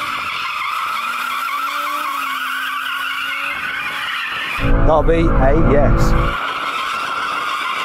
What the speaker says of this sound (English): I just want to warm my tyres, because this latest version of the RS3 does have an ability to sort of drift